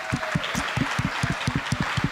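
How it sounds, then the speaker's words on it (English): A short burst of steady applause, many hands clapping together with brisk, even rhythm. "please give them a round of applause"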